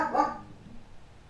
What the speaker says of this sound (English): I just had to pause it for a moment because my dog was barking.